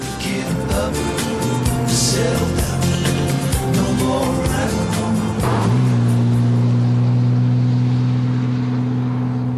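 Engine of a 1961 Jaguar roadster under way, a loud, close, throaty drone that rises and steadies after a gear change, with no talk over it.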